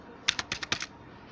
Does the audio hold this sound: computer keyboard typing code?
yes